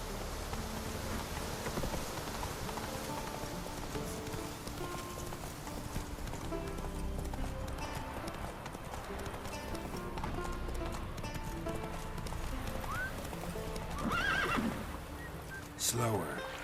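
Roach, a horse in The Witcher 3, gallops steadily with continuous hoof clip-clops under rain, and a whinny rises near the end while someone speaks over it.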